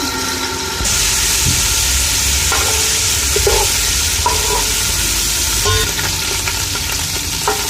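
Garlic and ginger frying in hot oil with whole spices give a loud, steady sizzle and hiss, with occasional clinks and scrapes of stirring.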